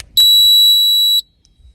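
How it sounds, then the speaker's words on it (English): A single clear, high-pitched electronic beep from a keyless RV door lock being programmed, lasting about a second, sharp and steady, then silence. "You'll hear a beep."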